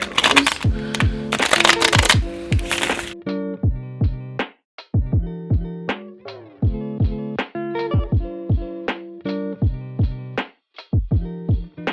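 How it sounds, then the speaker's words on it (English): Uno Flip cards are shuffled in rapid riffling bursts for about three seconds, with a steady melodic music track running underneath and carrying on alone afterward. "So now, let's shuffle."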